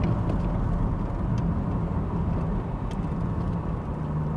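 A 1988 Toyota Celica Cabriolet drives along with its engine giving a steady, even drone and road rumble throughout, with no speech.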